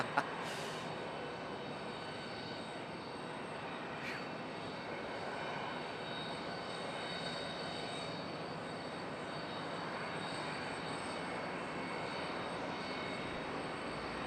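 Airplane at Charlotte Douglas International Airport, a steady, continuous jet engine roar at some distance that holds a broad rumble throughout with no voices.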